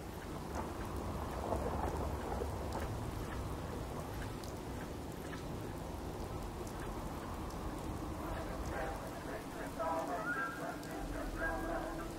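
Rain pours steadily and thunder rumbles in the video game Fallout 4, a continuous downpour with low rolling booms, while a man occasionally mutters over it.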